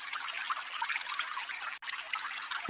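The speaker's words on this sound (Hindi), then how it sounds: "ठंडी हवा और पानी की हल्की हल्की आवाज माहौल को और भी शांत बना रही थी।" Soft, steady trickle of river water at a riverbank, continuous and fairly faint, with a brief dropout near the end and no talking.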